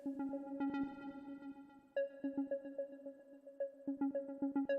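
A synthesizer in Reason 12 plays short plucked techno notes in a bouncing rhythm with ping-pong left-right delay, each tone ringing out with a soft reverberant tail, fairly quiet throughout.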